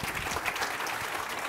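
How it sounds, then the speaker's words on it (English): Brief burst of audience applause at the close of a conference talk, dense steady clapping from a seated crowd in a hall, moderately loud throughout. "So let's give them a round of applause."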